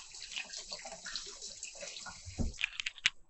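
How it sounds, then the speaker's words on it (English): Water runs from a kitchen tap over hands being rinsed, a soft, fairly faint splashing and trickling with a few louder drips and splashes near the end. "Rinsing my hands."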